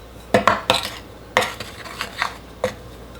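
A utensil stirs flour and salt together in a bowl, giving a handful of sharp scraping clinks and knocks at uneven intervals, close and distinct against a quiet background.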